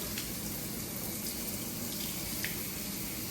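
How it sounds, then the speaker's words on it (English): A K&N air filter for a 2018 Silverado 5.3 rinsed under running water, a steady close hiss of flowing water with a few faint splashes, alone and fairly quiet. "You're gonna take them and rinse the entire thing to get that cleaner out"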